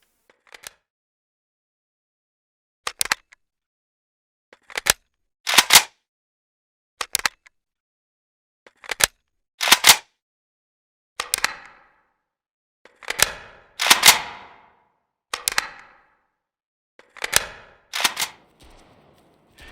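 Weapon reload animation sounds from Road to Vostok: a sequence of crisp metallic clicks, clacks and rattling handling noises in separate small groups, close and clear over silence.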